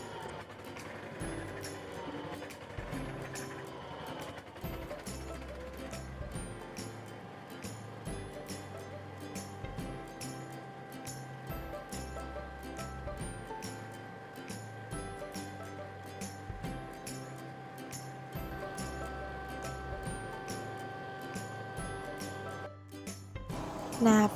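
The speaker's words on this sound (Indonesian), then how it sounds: "lalu berasnya digiling hingga menjadi halus dan menjadi tepung beras" A machine grinding soaked rice into fine rice flour drones steadily with a low, rough rumble and repeated rhythmic clattering pulses, moderately close and continuous for the whole stretch.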